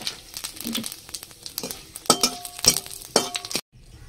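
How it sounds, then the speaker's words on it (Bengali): Cumin seeds and spice paste dropped into hot oil left from frying fish, sizzling in short bursts with spoon scrapes and clinks against the pan before cutting off abruptly. "এই তেলের ভিতরে মাছ ভাজার তেলের ভিতরেই আমি জিরাটা ছেড়ে দিলাম, আর তার সঙ্গে ছেড়ে দেবো আমি পেস্টটা"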